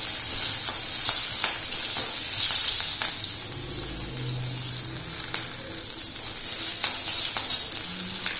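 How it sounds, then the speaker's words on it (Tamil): Ginger and green chilies sautéing in a pan give a continuous loud sizzle and crackle, with a series of spatula stirring scrapes spread across the stretch and no speech. "திருத்தி வச்ச இஞ்சி, பச்சை மிளகாய் எல்லாத்தையும் போட்டு நல்லா வதக்கிக்கலாம்"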